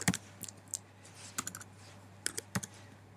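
Scattered keystrokes on a computer keyboard, typed in short irregular bursts of sharp clicks with pauses between, close and fairly quiet over a faint steady hum.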